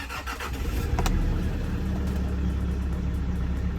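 A first-generation Kia Sorento fitted with a swapped diesel engine cranks and fires up, then settles into a steady, loud, rough idle with a faint belt whine on top.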